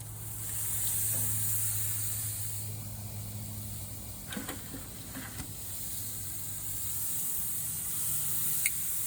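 Steak sizzling on a grill, a steady broad hiss of searing meat running throughout with a low hum underneath and a few brief clicks and knocks near the middle.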